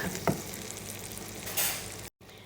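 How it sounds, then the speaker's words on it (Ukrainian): Dried jamón frying in hot oil for an omelette, making a close, even sizzle with a brief stir and a louder hiss burst before a short cut. "Беремо хамон, такий сушений поджаримо."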